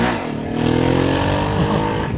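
Sustained, loud engine drone from a 2025 Ducati Panigale V2S motorcycle held at full throttle against the pit limiter, a steady buzzing note with slight wavering and no rise in pitch.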